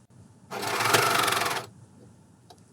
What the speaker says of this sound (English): I'm sewing through all the layers. I'm using 3 needles cover stitch.